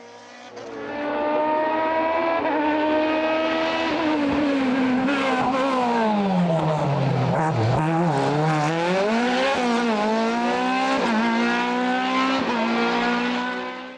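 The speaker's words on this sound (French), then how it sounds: "Ayant pu réparer à temps sa Norma M20 FC2 litres après ses ennuis électriques de Saint-Jean-du-Gard, Dimitri Pereira s'impose dans le groupe CN" A Norma M20 FC 2-litre group CN race car climbs the Abreschviller hill climb in 2024, its loud engine screaming and revving hard through the gears for the whole stretch, with pitch dipping and rising on each shift and corner.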